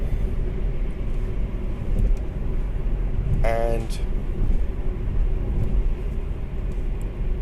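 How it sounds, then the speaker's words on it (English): Constant wind rush and low rumble inside a moving 2018 Nissan Micra, a steady cabin drone with a brief voice cutting in midway. "Yeah, definitely wind noise."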